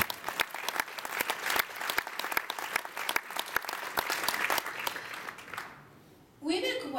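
Gala audience gives a guest speaker, a brigadier general, a burst of lively hall applause, many hands clapping fast and close before fading out, then a voice resumes on the microphone.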